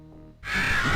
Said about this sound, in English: Now I see a couple of birds.